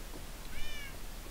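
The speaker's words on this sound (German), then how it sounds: "Kätzchen." A cat meows once in the Minecraft video game, a short, faint rising-and-falling mew heard briefly over low background noise.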